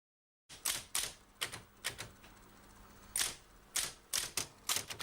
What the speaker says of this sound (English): I'm typing up the chat sheet, Mr. McKeever.